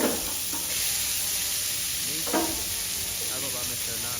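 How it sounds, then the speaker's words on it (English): Peppers and garlic sizzle in a hot pan, giving a steady close frying crackle with a few stirring scrapes, with no talking. "first we're gonna add our peppers, garlic, all that good stuff back to the pan"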